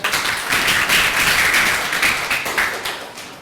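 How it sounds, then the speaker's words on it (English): An audience claps together in a lecture-hall setting at a financial seminar, with dense, loud, sustained applause lasting a few seconds and gradually tapering at the end. "Can I have a clap, please?"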